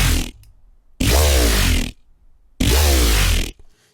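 Serum synth dubstep growl bass with the oscillator level raised, two loud sustained bursts with wobbling harmonics and a harsh, scratchy edge, separated by short near-silent gaps.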